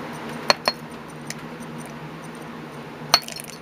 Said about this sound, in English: I'm going to add some cloves. Just got to sprinkle those right in.